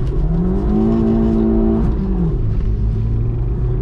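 A 1992 Citroën ZX engine revs hard at full throttle and holds a steady, loud roar, its pitch rising and then settling, close by with no voices.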